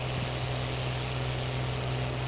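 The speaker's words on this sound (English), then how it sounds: "with how loud this tractor is, I don't hear the beep when the baler gets full" Loud, steady drone of a tractor engine running while baling grass in the rain, a constant close rumble with no pauses.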